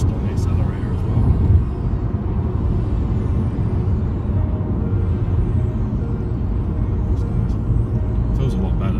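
A remapped Vauxhall Astra 1.6 Turbo accelerating, heard from inside the cabin as a steady, deep engine rumble that holds throughout while someone talks over it.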